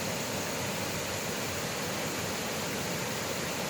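A waterfall at Carter's Lake near the Ridgway Recreation Area boat ramp, a steady broadband rush of falling water, close and unbroken throughout.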